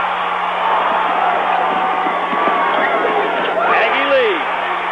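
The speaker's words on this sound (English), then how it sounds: "You hear the crowd behind us." Basketball arena crowd at a New Mexico State Aggies home game against the UNM Lobos, a steady, loud roar of fans in the stands that holds throughout, with a commentator talking over it.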